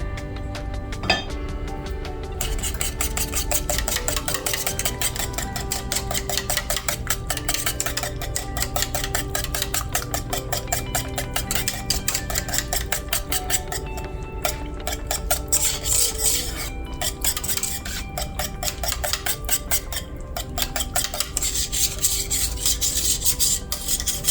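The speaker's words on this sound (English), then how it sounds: "I'm going to use my little whisk." Small wire whisk beating eggs in a bowl for a keto crustless pumpkin pie, a fast steady scratchy rasp with light clinks against the bowl, close and continuous throughout with no talking.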